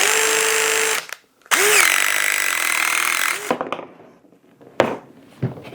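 DEWALT PVC cutter cutting a 1.5 inch plastic pipe, two loud close bursts of high motor whine with grinding, then a cut-off and a few sharp clacks and knocks as it stops.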